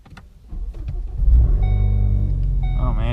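A modded 2014 Ford Focus ST with a straight exhaust and its seats removed, heard from inside the cabin: a loud, steady low engine drone that swells after a quieter start and holds, with a brief voice near the end.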